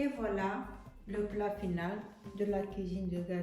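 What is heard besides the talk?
No everyday noise stands out behind the speech.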